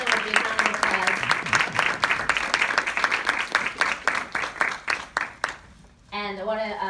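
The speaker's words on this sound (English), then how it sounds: "please give them a big round of applause" A crowd applauds with brisk, steady clapping that gradually tapers off, followed by a person beginning to speak.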